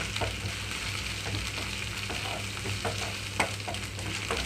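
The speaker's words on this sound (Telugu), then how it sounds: "ఇందులోకి అల్లం వెల్లుల్లి పేస్ట్ వేసేసుకుంటున్నాను అల్లం వెల్లుల్లి పేస్ట్ కొంచెం వేగిపోవాలి" Ginger garlic paste frying with softened onions in a pan for egg fried rice, a steady close sizzle with light spatula strokes and occasional small pops.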